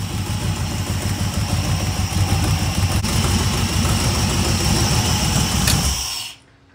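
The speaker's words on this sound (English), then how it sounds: "Yeah, that exhaust leak is louder than the mufflers." A 5.3-litre LS L59 V8 idles steadily on an engine run stand, its exhaust leak ticking and hissing loudly over the rumble, close and continuous for about six seconds before it shuts off.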